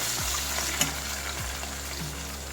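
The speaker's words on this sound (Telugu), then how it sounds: "ఈ వెల్లుల్లి వేసి ఫ్రై చేసుకుందాం తర్వాత పచ్చిమిరపకాయలు వేసుకుందాం ఇవన్నీ బాగా వేగాలండి బాగా కలుపుకుందాము" Garlic and green chillies fry in a pan, giving a steady, close sizzle with faint scrapes and clinks from stirring throughout.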